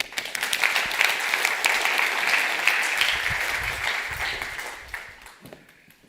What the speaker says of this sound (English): Please give a warm round of applause for Jan Versteeg.